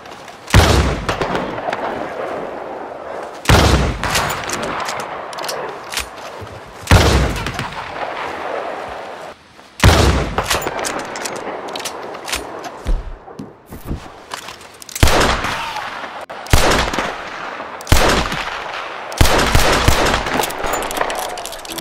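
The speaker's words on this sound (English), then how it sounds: "there is a heavy echo of any loud sound, just like the real world. Unlike real life, we cannot woohoo and hear the echo," Repeated gunshots in Red Dead Redemption 2 ring out beside Owanjila lake among high hills, each sharp crack followed by long rolling echoes that merge into a trailing rumble, fired at irregular intervals across about twenty seconds.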